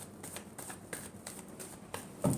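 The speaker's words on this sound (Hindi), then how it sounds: "Last shuffle." Tarot cards are shuffled softly close by, a quiet run of papery riffles and taps in uneven bursts, ending with a slightly louder knock.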